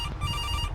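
A telephone rings in a horror video game set in a security guard's night-shift office, a brief, faint electronic ring over low background rumble.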